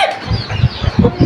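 Desi roosters and hens in a poultry yard give short, busy clucks and wing flutters close by, a loud, restless jumble with no crow standing out.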